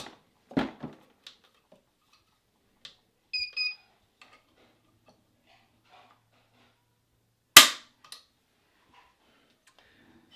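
A gun cocked and dry-fired against a trigger pull gauge: sparse sharp mechanical clicks and a brief metallic ring, then one louder crisp snap of the hammer falling, isolated in near silence.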